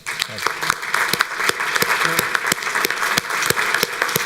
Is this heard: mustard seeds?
no